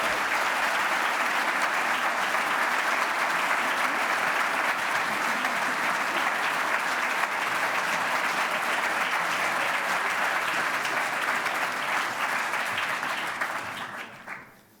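Audience applause at an essay competition award ceremony, a long, sustained, even roar of many hands clapping that holds steady before tapering off abruptly at the very end.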